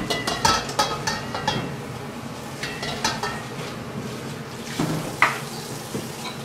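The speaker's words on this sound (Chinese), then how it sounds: "来煎蛋啊" Eggs frying in oil in a wok crackle and spit with sharp pops, mixed with metal utensil clinks and scrapes against the pan, close by and without talk.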